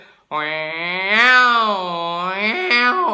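A human voice imitates two male cats fighting in the street, holding a long, wavering, rising and falling yowl for about three seconds.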